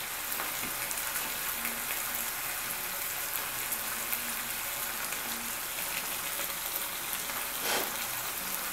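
Beef bourguignon ingredients fry steadily in a pan, a continuous close sizzle with light crackles and an occasional stir, with no voices.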